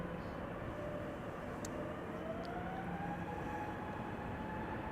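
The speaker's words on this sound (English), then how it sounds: "EasyJet now taking off," An easyJet Airbus A320neo takes off at Amsterdam Schiphol Airport, its engines a steady, even roar from a moderate distance that holds without a break.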